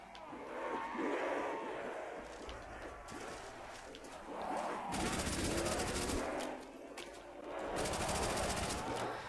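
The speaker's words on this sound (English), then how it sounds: "I'm going to be shooting the zombies with the Thompson." Bursts of Thompson submachine gun fire aimed at zombies in Black Ops, with loud rattling volleys coming in waves amid crowd-like zombie groans and game noise, and no talking.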